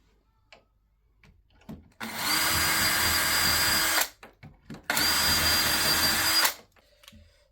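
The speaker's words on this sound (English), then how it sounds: "I'm just going to drill a couple of pilot holes now." A power drill bores pilot holes for a rim lock on a door, two loud steady whirring bursts of about two seconds each separated by a short pause, close up with faint handling sounds around them.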